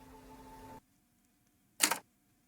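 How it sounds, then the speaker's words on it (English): In a video game, a cat shakes a machine and coins spill out: a steady hum of game music cuts off, then after a silent pause one short bright jangling burst of coins rattles close and loud. "The cat is shaking coins out of the machine."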